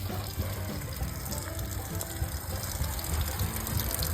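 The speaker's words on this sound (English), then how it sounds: "Water on." Water gushes steadily from a tap after being turned back on, in a steady close rush with no talk, in a home where the pipes inside the wall are broken.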